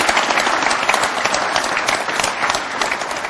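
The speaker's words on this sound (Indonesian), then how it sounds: "Baik, kita berikan aplaus untuk Mas Irwan dulu." A television studio audience applauds for a guest named Irwan, with dense, sustained clapping filling the whole stretch at an even, lively level.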